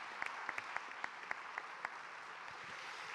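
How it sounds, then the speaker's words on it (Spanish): An audience at a Spanish-language panel event claps steadily for the speakers. The applause is a dense, even patter that carries a few sharper individual claps and continues throughout. "Este aplauso es para ustedes."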